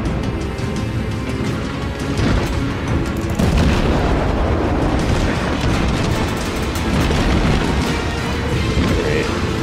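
Naval shells fire and burst in a World of Warships battle, a continuous heavy rumble of booms and crashes that rises and falls without pause.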